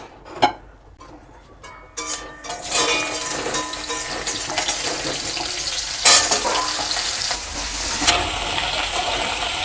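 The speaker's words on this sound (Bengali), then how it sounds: "তো আগে আমি ডাঁটাটাকে একটু ভেজে নেব।" Drumstick stalks (sojne data) hiss and sizzle as they fry lightly in a pan, with scattered clatter of stirring at first, then a continuous loud crackling sizzle.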